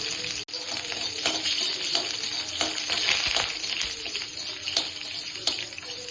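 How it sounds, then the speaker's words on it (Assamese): Panch phoron, two bay leaves and dried and fresh green chillies fry in hot oil, giving a steady close sizzle with crackles and a few stirring clinks. "তেল গৰম হৈ গ'ল, এতিয়া অকণমান দিছোঁ পাঁচফোৰণ, তেজপাত দুটা দি দিছোঁ, শুকান জলকীয়া আৰু কেঁচা জলকীয়া 4টা"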